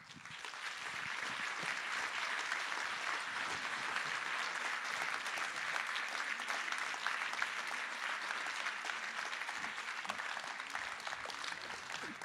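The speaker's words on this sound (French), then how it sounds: "je vous demande d'applaudir chaleureusement Monsieur François Berléand." Sustained, even applause from a seated audience welcoming a guest onto a stage for an evening interview, steady and moderately distant throughout, with no talking over it.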